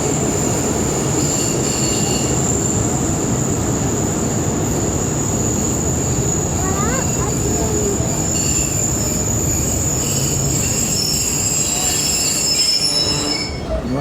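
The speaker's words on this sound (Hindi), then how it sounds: "और ट्रेन हमारी पतोगी रेलवे स्टेशन अप्रोचिंग बनाते हुए" A passenger train nears Pattoki railway station in Pakistan with a loud, sustained high metallic wheel squeal running steadily for the whole stretch over rolling rail rumble, heard from on board.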